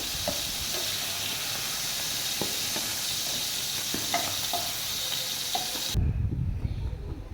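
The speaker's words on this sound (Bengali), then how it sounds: "চিংড়ি মাছটা আমার লাল লাল ভাজা হয়ে গেছে।" Constant crackling sizzle of shrimp frying in hot oil, with a few small pops, ending in a soft clatter.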